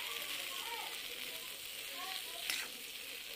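Okra thecha sautés in a pan, a soft steady sizzle and hiss with a light stir and a small clink, fairly quiet and close.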